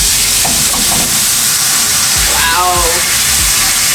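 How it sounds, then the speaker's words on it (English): Food sears in a hot pan with a loud, continuous sizzle and hiss, a few clinks and stirring sounds on top, and a voice briefly exclaims. "So while we let that sear off to us, and get, you know, actually cooked through."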